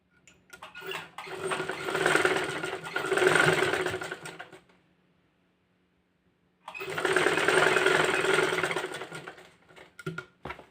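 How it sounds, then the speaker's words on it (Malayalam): Sewing machine stitching a pleated top made from nightie material, running in two close, loud bursts of rapid whirring separated by a few seconds of silence. "ഇവിടെ നമുക്ക് തിരിച്ചും അടിച്ചു കൊടുക്കാം രണ്ട് സ്റ്റിച്ച് വരും കേട്ടോ ഇവിടെ"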